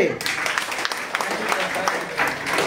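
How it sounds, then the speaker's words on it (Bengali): Applause from an audience at a Vestige marketing plan meeting, a dense, steady patter of many hands clapping for nearly three seconds, with voices talking over it. "জোরে একটু হাততালি।"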